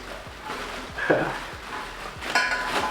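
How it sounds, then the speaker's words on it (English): Lightweight metal camping pot and lid from a survival food kit being unpacked, with a few close clinks and scrapes of metal against metal between rustling, while a person talks. "Here's the pot and the lid. Let's unpack it."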